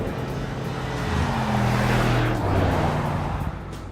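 The 4-litre Mercedes-AMG V8 of a 2019 G63 roars loudly and steadily up close, swelling in a rising, falling rev with a deep, rumbling throb and no talk.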